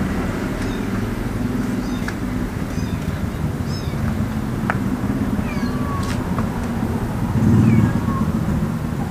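A cat meows several times at night near a cemetery, short, fairly clear cries over a steady background hum, with a louder meow near the end.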